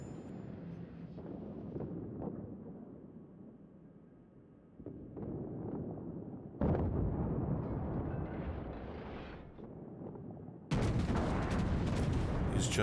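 A warship fires high-explosive shells in the World of Warships naval video game, with sharp booming blasts that come in abrupt bursts, the loudest near the end, each followed by a rumbling tail.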